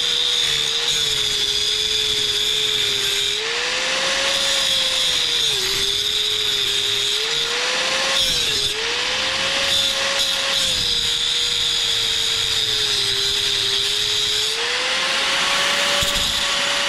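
Power drill boring holes into the front of a 1972 Pinto Runabout to mount radiator brackets, a loud continuous whine with the motor pitch dipping and rising as the bit bites, steady and close for the whole stretch.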